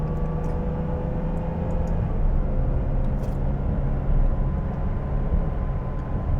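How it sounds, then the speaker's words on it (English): Steady low engine drone from a 2008 Ferrari 612 Scaglietti V12, heard from inside the cabin while cruising at freeway speed, a smooth continuous hum with road rumble and no talking. "So the sound from the V12 is present in the cabin, which is nice, but it's not intrusive."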